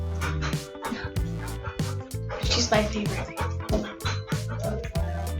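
A pet dog makes playful vocal noises, yips, whines and soft bow-wow sounds, repeated in short bursts close by, mixed in with someone talking.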